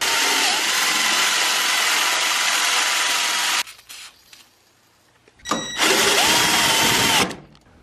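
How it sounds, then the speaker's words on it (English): A power drill whines loudly for several seconds while drilling bolt holes in a car's core support, stops briefly, then runs again in a second sustained burst, steady and close. "we're going to drill holes for the bolts"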